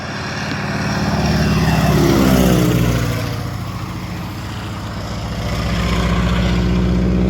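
A crop duster airplane flying low over a field in Lebanon, Oregon. Its propeller engine drone swells loud and near as it passes, eases off, then builds again, with no talk.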